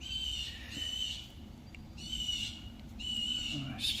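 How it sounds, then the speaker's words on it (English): Birds sing outdoors on a fine day near a honey bee hive, with bursts of repeated high chirping phrases coming in about three spells, fairly clear against a low steady background rumble. "Hear the birds. We're outside."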